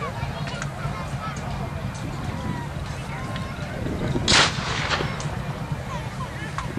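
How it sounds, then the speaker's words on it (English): Historical reenactment of a Royalist attack at Glemham Hall, with a large artillery gun battery firing one booming blast partway through over a constant rumbling outdoor background. "The Royalists have now deployed a large gun battery."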